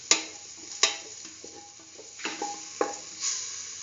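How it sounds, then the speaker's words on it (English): Split chickpeas and chayote sautéing in a pan, with sharp scraping stirs and utensil clacks at irregular intervals over a faint sizzle, close by with no voices. "keep on sauteing"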